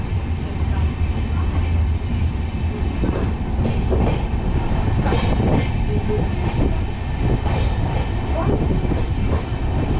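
The Delhi–Amritsar Shatabdi Express runs on rails with a loud, continuous rumble and a rhythmic clickety-clack of wheels over track joints, steady throughout.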